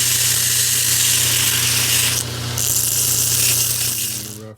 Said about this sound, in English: I'm going to be getting on the grinder and grinding the profile now.